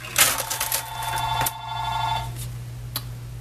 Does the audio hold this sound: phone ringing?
yes